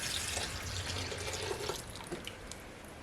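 Water and leftover blueberry syrup poured into a pot in a home kitchen for canning blueberries, a steady close splashing stream with small gurgles and drips, fairly quiet and alone.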